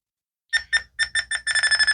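A FrSky Ethos radio transmitter sounds its timer alarm: silence, then a rapid series of bright electronic beeps that quicken and merge into a near-continuous chirping pulse, close and clear.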